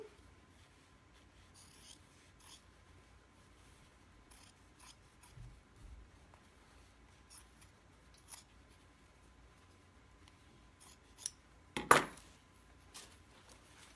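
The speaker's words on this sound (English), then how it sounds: "So go ahead and trim off the excess on the inside." Scissors trimming excess denim fabric off a jeans hem, with scattered quiet snips and rustles and one louder, sharper cut near the end, close in a quiet room.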